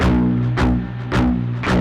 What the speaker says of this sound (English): to get that muted metal sound.